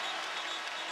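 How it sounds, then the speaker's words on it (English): A home crowd roars and applauds at a college basketball game between Duke and Virginia Tech, a dense, continuous wash of cheering and clapping heard from a distance with no clear voices. "what a reaction he's getting from the home crowd"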